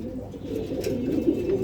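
Gargari pigeons, a pair sitting on eggs in a loft, coo in a low continuous murmur, fairly close and steady throughout with no talk over it.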